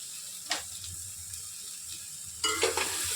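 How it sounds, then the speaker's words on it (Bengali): Taro stalks go into hot oil and are stirred, with a soft background sizzle, a scrape near the start and a louder burst of frying and stirring in the last second. "আর দেবো বাকি যে কচুর ডাঁটিটা ছিল সেইটা এই সময় দিয়ে দেবো"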